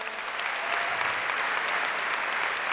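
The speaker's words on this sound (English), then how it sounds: "Round of applause for Ignite" Steady, full applause from a comedy show audience honoring the event organizers, dense and even throughout with no talking over it.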